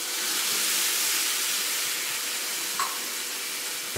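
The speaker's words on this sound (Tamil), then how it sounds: "இந்த பாலையும் ஊத்திடணும்." Milk pours into a nonstick pan holding sugar and grated coconut for coconut burfi, making a loud, continuous hissing sizzle close by that holds steady for several seconds with a brief clink near the end.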